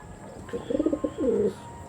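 A high-quality Andhra pigeon gives a short, soft cooing phrase of a few rising notes, close by and alone over faint background hiss.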